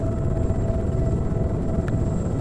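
A helicopter in the Arma 3 video game hovers nearby, a steady loud rotor and turbine rumble with a thin high whine, alone without talk.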